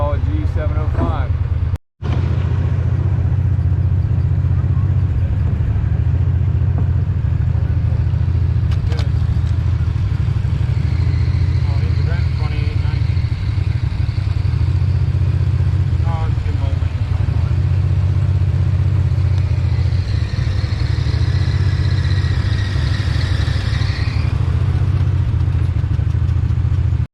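A G705 tractor drives along at a show, its steady low engine drone running throughout with occasional clatter and mechanical rattles, while people talk in the background.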